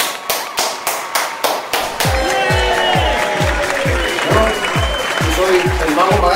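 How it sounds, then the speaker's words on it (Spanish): An audience applauds a magician at a comedic talent show, a burst of claps after a run of sharp rhythmic hits, with layered effects sounding over the cheering. "¡Un aplauso a este mago!"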